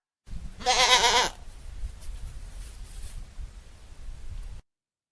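A single loud goat bleat, wavering and nasal, followed by quiet background rustling.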